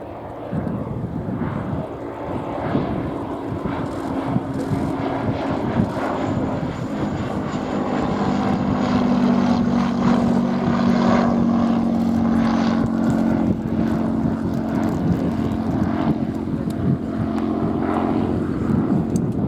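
A Bristol F2B First World War biplane flies past at an airshow, its piston engine and propeller droning steadily and loudly throughout, swelling slightly mid-pass with some wind buffeting.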